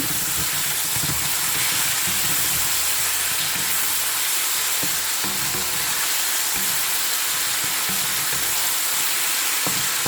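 Minced garlic and spices sizzling hard in a pan for tofu with mushrooms and spinach, a loud continuous hissing fry with faint occasional clinks underneath.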